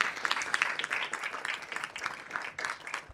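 Applause from the audience at a city council session, a moderate crowd clapping in uneven bursts with individual claps standing out, fairly quiet and fluctuating in loudness.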